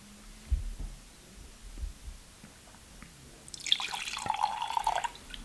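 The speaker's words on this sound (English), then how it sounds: "Pouring some liquids." Liquid from a bottle is poured in a short splashing stream toward the end, after a few quiet knocks and a low hum.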